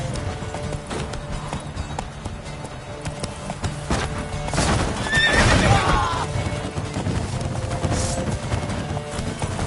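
Roach, a horse in The Witcher 3, gallops with a steady run of hoofbeats under game music and ambience, and a loud, clear neigh comes near the middle.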